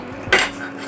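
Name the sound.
spoon clinking against a small bowl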